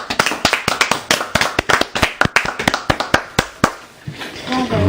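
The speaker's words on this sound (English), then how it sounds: "Round of applause!" A few people clap in sharp, close, uneven bursts that trail off after a few seconds, followed by a voice speaking.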